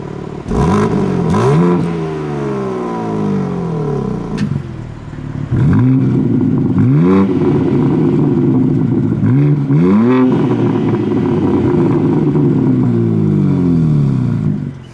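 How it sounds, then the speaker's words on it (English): A 2023 BMW M2 engine revs loudly and close in repeated rising-and-falling bursts, with a steady roaring drone held between the revs. "the BMW M2 actually sounds pretty freaking good"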